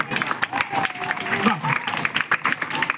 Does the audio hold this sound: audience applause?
yes